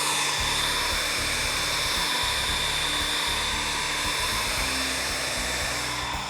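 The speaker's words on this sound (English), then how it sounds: "it's okay to bring in the old hairdryer" A hair dryer on high blows a steady, loud whoosh across a glossy epoxy bar top finish to pop surface bubbles, running continuously without pause.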